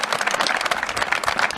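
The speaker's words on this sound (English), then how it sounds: "so big cheer for all the parents." A crowd at a Dublin vs Kildare ladies minor Gaelic football championship final applauds and cheers for the parents, with dense, steady clapping close by throughout.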